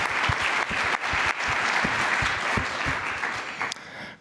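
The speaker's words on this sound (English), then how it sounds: "so can we get one more round of applause for them?" Sustained audience applause at a conference welcome session, dense clapping from a large crowd filling the room, steady and fairly loud before tapering off at the end.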